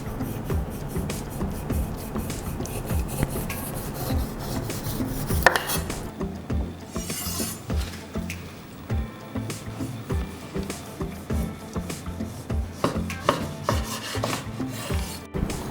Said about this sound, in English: remove the cotenna, that is this small layer of skin from the pork